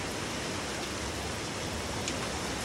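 Heavy rain falling outdoors during stormy, flooding weather, a dense, steady, loud hiss that fills the whole stretch without a break, with no talk.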